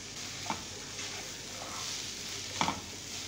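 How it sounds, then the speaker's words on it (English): Chicken frying with onion, pumpkin and beans in a pan, a faint steady sizzle broken by a few soft scrapes and knocks of stirring. "Mix everything, fry until changes color."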